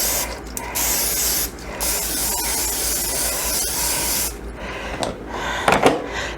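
Cooking spray hisses onto a hot waffle iron in a long steady close burst, then a short second spray, followed by a few light clicks and rustles.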